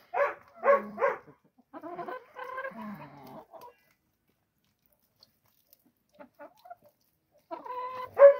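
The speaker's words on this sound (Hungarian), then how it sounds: "itt vannak a kis tyúkocskáink" Close chickens cluck in short rhythmic bursts while eating potato peels, pause for a few quiet seconds, then resume clucking.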